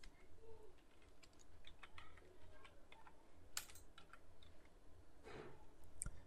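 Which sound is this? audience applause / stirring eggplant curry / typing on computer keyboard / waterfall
typing on computer keyboard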